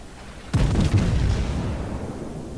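Naval gun salvo fired in World of Warships, heard as a single loud booming blast with a rolling, decaying rumble afterward.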